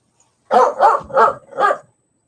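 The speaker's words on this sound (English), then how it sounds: "Excuse the dog." A single dog barks four times in a quick, loud, close burst, clear against an otherwise quiet room with no talking.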